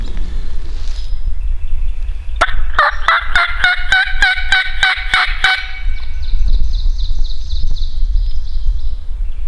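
A wild turkey gobbles once from some distance on Virginia public land in spring, a rapid rattling burst over steady low wind noise, with a fainter trailing call after it.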